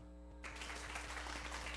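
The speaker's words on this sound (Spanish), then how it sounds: "Usted se merece un aplauso." Soft, dense wash of applause from a church congregation during a Spanish-language sermon, bursting in after a brief hush and holding steady, faint and distant in the room.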